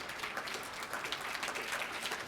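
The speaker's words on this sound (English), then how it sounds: "Let's give him a round of applause" Conference audience applauding at an Indigenous event opening, a soft, fairly distant wash of clapping that holds steady for a couple of seconds.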